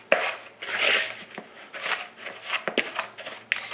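Brown sugar being mixed with a spoon to break up lumps makes close, gritty scraping strokes in short irregular bursts, heard alone.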